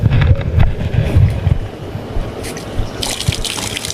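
Water splashes over a GoPro Hero 7 Black action camera to rinse it off during an outdoor field test, a rough continuous wash of water and wind buffeting close to the microphone, with no voices.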